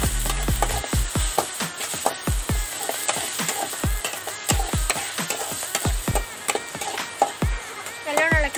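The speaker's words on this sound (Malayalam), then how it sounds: "സവാള നമ്മുടെ വഴണ്ടുകൊണ്ടിരിക്കുകയാണ്" Blended onion, holding a little water, sautés in a pan where mustard seeds were popping a moment before. It gives a soft, steady sizzle, broken by frequent scraping knocks of stirring, while a voice talks over it.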